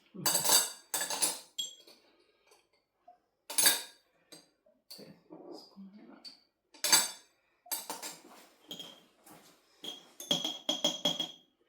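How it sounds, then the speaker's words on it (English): Metal spoons clink and knock against hot glass jars of blackcurrant jelly as they are pulled out, a string of sharp bright clinks in irregular bursts, close and fairly loud, with quiet pauses between and no talking. "So now we can take the spoons out and put the lids on."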